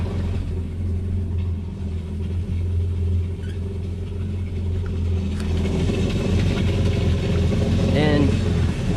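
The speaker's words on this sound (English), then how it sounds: "engine sounds good" A jet ski engine running while being flushed with a garden hose, giving a steady low rumbling idle throughout. Flowing water and some clatter join it partway through, and a short rising whine comes near the end.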